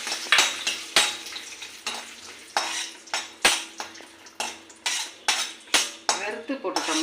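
Raisins roast in a small pan for laddu, topped by a string of sharp metal clinks and scrapes from a spoon stirring against the pan, with a faint sizzle underneath, close and rhythmic.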